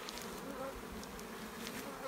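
Honey bees hum steadily in a small hive opened up for inspection, a dense, continuous close-up buzz with faint rustling and no voices.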